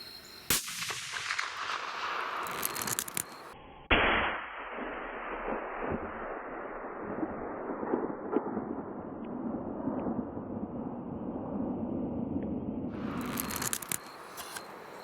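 A single loud rifle shot at a white-tailed deer cracks sharply outdoors partway through, then rings and decays into a long rumbling tail over faint background noise.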